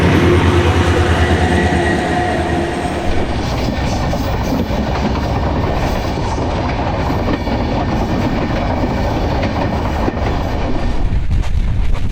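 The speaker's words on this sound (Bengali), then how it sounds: "এটা আমাদের প্রথম ক্রসিং, যে ট্রেনটা চলে আসছে অলরেডি" A Bangladesh railway train passes close by at a road crossing, a loud, continuous broadband rumble and clatter of wheels on rails that holds steady throughout, with faint tonal squeals early on.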